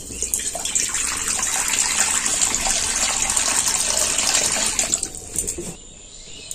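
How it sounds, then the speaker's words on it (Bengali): Water poured into a wok in a home kitchen, a steady loud gushing splash lasting several seconds before tapering off abruptly near the end. "এবার আমি কড়াতে দিয়ে দিচ্ছি জল"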